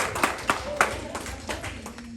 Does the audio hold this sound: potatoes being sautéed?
no